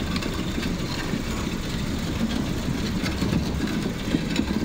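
A car fitted with stone wheels rolls in reverse, making a loud, steady low rumble and grinding drone with faint rattling on top, close and continuous, with no talking.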